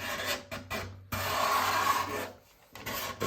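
A scraper draws across the wooden sides of a guitar being built, giving close, dry rasping strokes in several separate bursts with brief quiet gaps between them.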